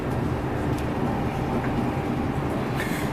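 Interior rumble of a Class 800 train running from Paddington to Cardiff, a steady low roar of wheels and motion at constant loudness with faint higher rattles, no voices.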